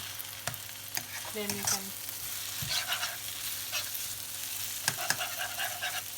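An egg fries and is stirred in a pan for vegetable pad Thai, giving a soft, steady sizzle with scattered utensil taps and scrapes. A voice speaks briefly.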